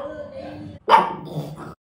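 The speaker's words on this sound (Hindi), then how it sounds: "मैंने जन्मों के बाद भौंक के दिखाया तो मुझे ट्रीट मिली" A pet dog gives one sharp bark near the middle, followed by softer whimpering sounds, with quiet voices around it indoors.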